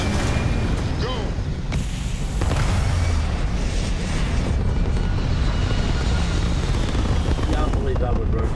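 Spaceship lift-off in Starfield, a loud continuous roaring rumble of engines sustained throughout, with a voice speaking over it near the start.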